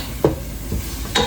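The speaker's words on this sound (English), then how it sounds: "I had to talk to you while that was browning and stirring" Chicken browning in a soup pot, a low sizzle with two or three quick scraping stirs close by.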